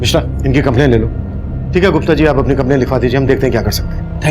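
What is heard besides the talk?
No everyday noise stands out behind the speech.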